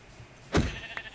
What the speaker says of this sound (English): There's another sheep I just saw.